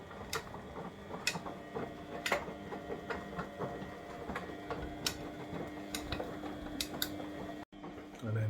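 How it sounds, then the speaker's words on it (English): An old Beko washing machine runs with a steady mechanical hum and a rapid, regular ticking and clicking, with a few sharper knocks along the way. There is no talking. "you'll at least get to see what a Beko washing machine sounds like and looks like"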